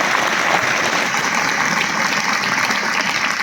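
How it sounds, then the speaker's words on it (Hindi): A crowd of schoolchildren claps loudly and steadily for a child, a dense, continuous wash of applause with no pauses. "इस बच्चे के लिए जोरदार ताली सारे बजाएंगे"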